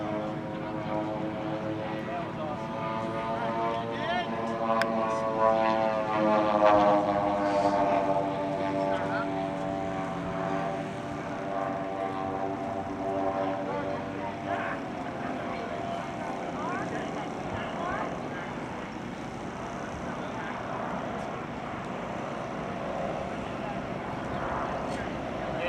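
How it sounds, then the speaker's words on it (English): A B-25 bomber landing on a runway at an air show, its low propeller-engine drone rising and easing off at a distance while an announcer talks over it throughout. "attempting a beautiful runway landing is Frank Del Gaduce with his B-25"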